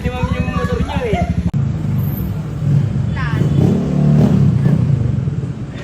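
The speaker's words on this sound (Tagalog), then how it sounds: "Narinig ni Mami yung motor niyo eh." A motorcycle engine revs and accelerates nearby, rising and surging under people talking over it throughout.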